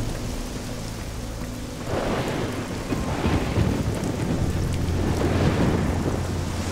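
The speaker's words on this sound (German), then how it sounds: "Ach, und es regnet immer noch." Thunderstorm rain in the video game Risen 2: a steady, dense downpour hiss with deep thunder rumbling in after about two seconds and rolling on loudly to the end, with no voices.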